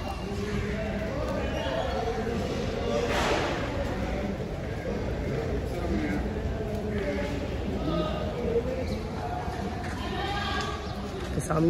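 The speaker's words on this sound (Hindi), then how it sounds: "सामने जो है ये अंडुल बकरा है" Goats bleat repeatedly amid a busy livestock market crowd at Deonar, where lots of Sirohi, Gujri and Ajmera kids are on sale; the bleats come over constant chatter and background bustle.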